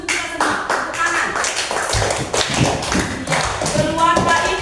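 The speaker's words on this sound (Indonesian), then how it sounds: "Bagus untuk kita semua. Tepuk tangan." Children clapping in a classroom, a brisk rhythmic patter of hands with thumps and taps, fairly close, while voices talk over it.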